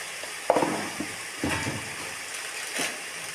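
Chilli powder, salt and turmeric frying in a pan for Nellore chicken curry give a steady close sizzle, broken by a few clinks and stirring scrapes of a spoon against the pan.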